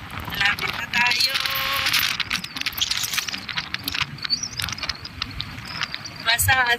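Strong wind blowing near Tally Beach in heavy rain, roaring and buffeting the microphone with constant low rumble and gusts, under steady rain patter and rattling, while a voice speaks intermittently throughout.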